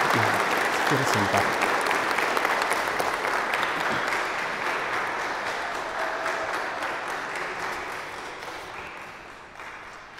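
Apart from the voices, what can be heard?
congregation applauding at a quinceañera mass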